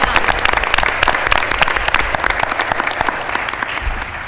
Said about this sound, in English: I want you guys to join me in giving Elliot a round of applause for her accomplishment